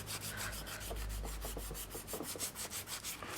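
A fingernail is filed with a nail file in steady, rapid back-and-forth rasping strokes, close and continuous, with no voice.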